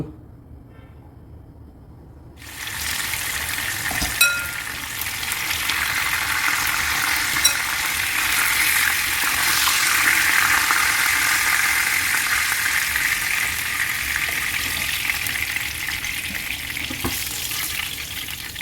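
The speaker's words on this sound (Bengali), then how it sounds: "আমি প্রথমে মাছটা বাইজে নিব" A sea bream, a saltwater fish, is fried in a pan: after a quiet start, a loud steady sizzle bursts in and continues evenly for over fifteen seconds with a few small pops and crackles.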